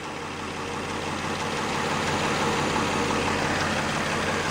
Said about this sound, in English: The engine will probably sound a little different, maybe a little quieter with that new oil in there.